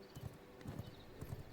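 Horse hooves clip-clop in the video game V Rising, a few soft, fairly quiet rhythmic hoofbeats in uneven pairs with no talk.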